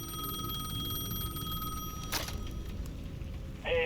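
Payphone at the edge of a plaza in the Alan Wake 2 video game, ringing with a steady electronic trill over low ambient hum, moderately faint.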